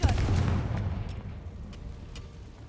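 A Confringo spell explosion in a video game, a single deep boom with a rumbling tail that fades over a couple of seconds, followed by faint sharp clicks.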